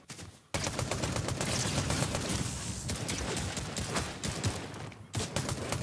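Rapid automatic fire from a gun in a multiplayer shooter video game rattles on almost without pause, loud and dense, with sharp cracks standing out near the end and no talk over it.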